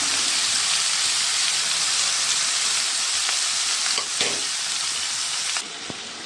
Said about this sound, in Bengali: দিয়ে দিলাম আমি একটু আদা থেতো আর শুকনো লঙ্কা